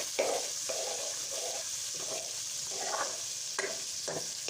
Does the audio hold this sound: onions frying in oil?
yes